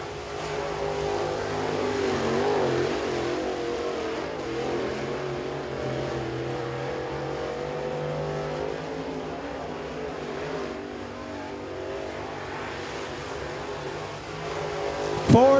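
A crate late model race car runs a qualifying lap at Crossville Speedway, its steady engine drone carrying from a distance across the oval over a continuous crowd-and-track ambience, swelling briefly louder near the end.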